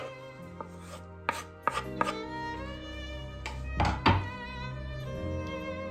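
Parsley is chopped on a cutting board with several close knife thunks at uneven intervals, sounding over steady background music.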